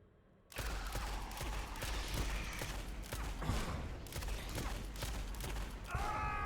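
Rapid gunfire from a weapon in the shooter game Blood West, a dense run of sharp shots repeating for several seconds after a short quiet start, with mechanical clicks and a metallic rattle at the end.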